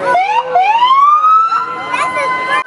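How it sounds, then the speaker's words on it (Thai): A loud police siren wails close by, its pitch sweeping up and down in long rising and falling tones. "อันนี้รถตำรวจ"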